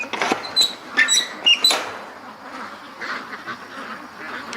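Several ducks quack close by in quick, uneven bursts with a few high squeaky calls mixed in, then softer scattered quacks follow over quiet background noise.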